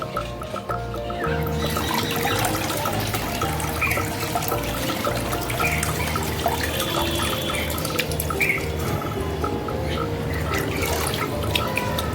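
Tap water running into a pet's water container, a continuous splashing and trickling stream with some dripping, heard alone and fairly close.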